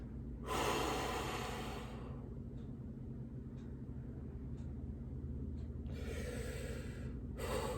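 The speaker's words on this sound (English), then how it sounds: "Breathe in, expand." Deep breaths during a stomach vacuum exercise, two long, loud broadband breaths near the start and end with a quieter hold between, close to the mic over a low steady rumble.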